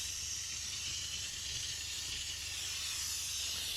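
A steam cleaner used to deep clean a car gives a continuous, loud, airy hiss that holds steady throughout, with a faint low hum underneath and no talking.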